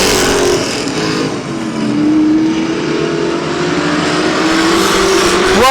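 Stock cars race at Twin State Speedway in Claremont, New Hampshire, loud engines roaring continuously as several cars battle closely, with pitch swelling and fading as they pass.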